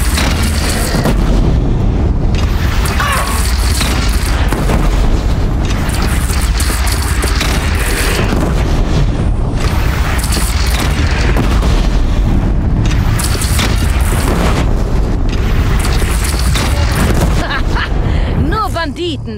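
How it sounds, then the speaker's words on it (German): Repeated booming cannon blasts from enemy artillery in the open-world action game Horizon Zero Dawn, loud and dense throughout alongside continuous game combat noise and talking. "sie haben nur eine Kanone"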